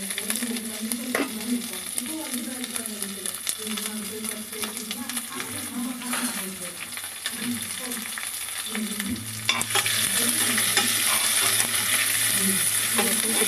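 Steady sizzling of chopped onions frying in hot oil for turkey gravy, with occasional stirring clinks, growing louder and brighter toward the end; a voice speaks quietly at times.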